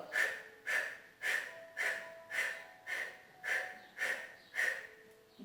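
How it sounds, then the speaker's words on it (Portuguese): Rapid yoga breath-of-fire exhalations during a menopause yoga exercise, about nine sharp, forceful nasal puffs in a steady rhythm roughly every half second, close and moderately loud with no talking. "faz a respiração do fogo. Contrai e solta o abdômen."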